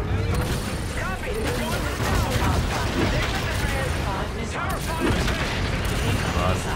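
Heavy gunfire at gunships in Call of Duty Infinite Warfare, sustained bursts and mechanical clatter with booms layered under shouted radio chatter and voices throughout.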